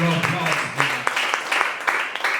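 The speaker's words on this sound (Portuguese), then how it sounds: "Então aplaude ao Senhor nosso Deus." Church congregation applauding during a Portuguese-language teaching service, with steady clapping and sharp individual claps mixed with voices and singing-like tones throughout.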